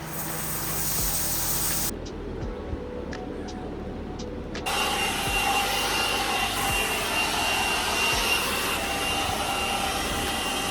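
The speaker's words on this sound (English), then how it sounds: "I'm just gonna blow dry my hair" A hair dryer blows a steady, loud roar while hair is being dried during a girls' off-grid weekend getaway, cutting out briefly for a couple of seconds before the full blast resumes.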